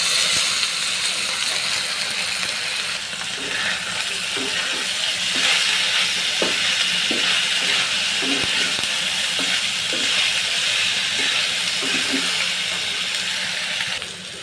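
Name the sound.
potatoes and bitter gourd frying in a pan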